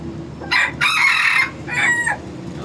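A wild labuyo junglefowl rooster crows close by, giving one loud, broken cock-a-doodle-doo in three bursts.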